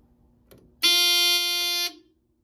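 A Simplex 4001 fire alarm panel's coded pull station sounds one loud, steady electronic horn tone lasting about a second, preceded by a faint click.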